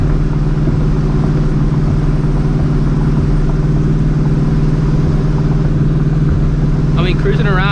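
A supercharged New Edge Mustang GT with a Vortech supercharger idles steadily in a loud, even drone with a low, constant hum, close by, and a voice comes in briefly at the end.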